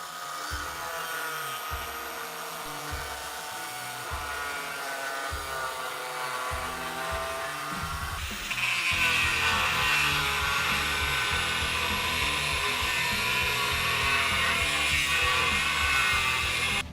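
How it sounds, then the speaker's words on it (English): Angle grinder whining steadily as it trims a Jeep JK transfer case cross member, a continuous high metallic grind that grows louder and harsher about halfway through, over a pulsing low rumble. "We trimmed it with the grinder just a little bit so that it would fit underneath the new rock hard skid."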